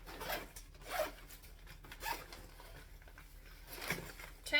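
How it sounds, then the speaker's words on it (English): A zipper on sewn fabric is run up in several short, raspy pulls spaced about a second apart, close by and fairly quiet, with no talking. "Make sure that this all zips up,"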